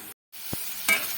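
Short, close sizzle of a spice paste mixed with water frying in a pan, with a brief gap and a soft stirring scrape, no voices.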